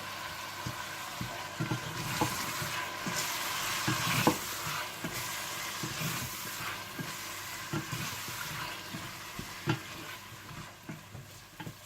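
Tomato, red chilli, turmeric and salt masala fries in a pan for aloo gobi, a steady close sizzle broken by repeated scraping stirs of a spoon.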